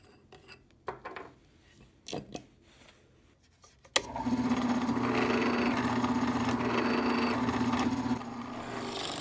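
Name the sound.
drilling a hole into threaded rod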